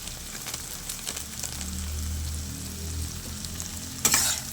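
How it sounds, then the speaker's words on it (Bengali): Egg and brinjal with shahi garam masala powder fry in a pan with a constant close sizzle, gentle stirring scrapes throughout and a sharper utensil clatter near the end, with no talk. "শাহি গরম মশলা গুঁড়ো দিয়ে আমি খুব ভালো করে নাড়াচাড়া করে নেব"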